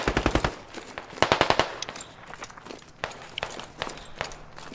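Machine guns in the war game SQUAD fire in several short, sharp bursts, one near and loud at the start and others more scattered after it. Faint footsteps and movement sound between the bursts, with no talk.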